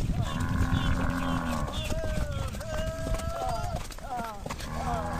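A herd of cattle is driven along by riders on horses, with clopping hooves, lowing and calls mixed together up close; someone shouts to the animals as they move.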